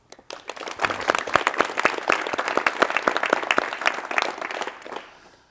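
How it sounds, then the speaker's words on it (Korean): A 1986 Korean television talk-show studio audience greets a guest with warm, sustained applause. Many hands clap close together for about five seconds before the applause tapers off quickly. "박수로 맞이해 주십시오."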